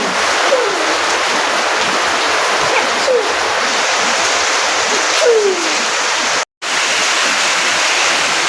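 Heavy rain pounds steadily on a roof near a small shop, a loud continuous hiss with a brief dropout near the end and no talking.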